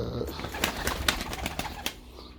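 Pigeons coo softly nearby in a quiet, steady murmur, with a few light clicks and rustles mixed in.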